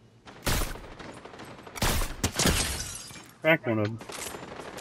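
Gunfire in Fortnite from the Mythic Enhanced Infiltrator pump shotgun, several sharp loud blasts spaced irregularly across a few seconds, with brief talk between the shots.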